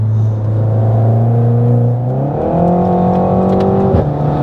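A Renault Mégane 4 RS accelerates smoothly, its engine note rising steadily in pitch, then dropping briefly at a gear change before climbing again, loud and close from inside the car.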